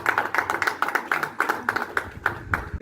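A congregation claps during a French-language church worship service, a moderate, fairly regular rhythm of distinct hand claps, mid-distance, with some voices faintly underneath.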